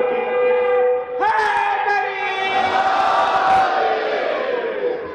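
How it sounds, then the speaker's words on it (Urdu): A large religious gathering lets out a loud, drawn-out collective slogan shout with hands raised, the crowd's voices swelling together and then trailing off. "تو دونوں ہاتھ بلند کر کے نعرہ حیدری"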